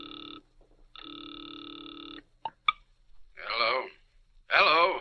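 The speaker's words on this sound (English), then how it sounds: "Now he waits, the ringing of a distant phone in his ears." A distant telephone rings in two long, steady bursts in a radio drama, followed by a couple of sharp clicks and then a voice answering over the line.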